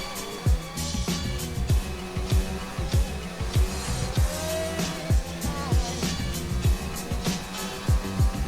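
A Formula 1 race car in the F1 2019 video game at the Australian Grand Prix roars loudly with engine whine, repeated gear-shift bursts and downshifts under braking, heard continuously and up close.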